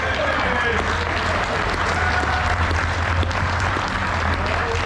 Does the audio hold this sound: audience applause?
yes